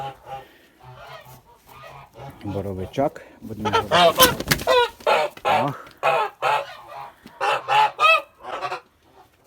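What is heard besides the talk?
geese honking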